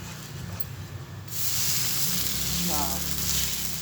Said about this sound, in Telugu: ఇది 2 వైపులా కాల్చుకుందాం. ఫ్రై అయింది.